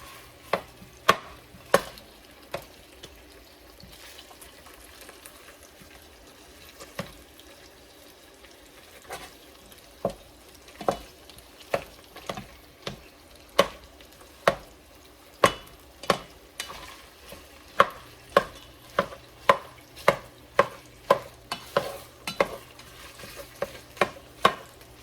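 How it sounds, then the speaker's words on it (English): Ground meat being broken up with a utensil as it fries in a pot for Zuppa Toscana soup: steady sizzling underneath, with sharp clacking chops that come sparse at first and then quick and rhythmic near the end, close by, with no talking. "I'm just gonna chop it up, you know, just like you would hamburger meat or something."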